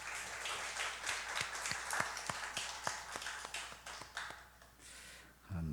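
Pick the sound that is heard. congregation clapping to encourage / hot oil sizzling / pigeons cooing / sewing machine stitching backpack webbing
congregation clapping to encourage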